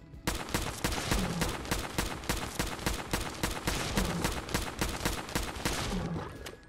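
A semi-automatic service rifle from a Fallout 4 mod fired at a Deathclaw, a steady rapid series of sharp, evenly spaced shots, about a dozen and a half in quick succession, loud and close with no talk.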